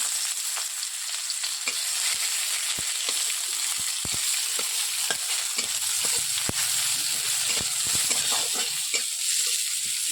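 Onions fry in oil with garam masala in a pan, a steady loud sizzling hiss with scattered sharp crackles and occasional stirring clicks, close by and without talking.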